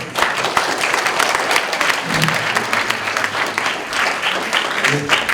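Audience applause at a primary-category spelling bee championship, continuous clapping from a large hall crowd with scattered sharper claps standing out.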